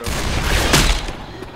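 Gunfire in Left 4 Dead 2, a short, dense volley of loud shots blending into a continuous roar, with a voice mixed in.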